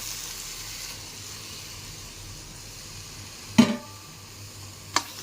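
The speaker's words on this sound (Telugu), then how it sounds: "ఇప్పుడు వచ్చేసి దీంట్లో టమాటా రసం వేసుకుందాం" Fresh tomato juice poured into a hot pan of spices for boiled egg curry, giving a steady low sizzle with a sharp burst of hiss and clatter near the end, followed by a brief second knock.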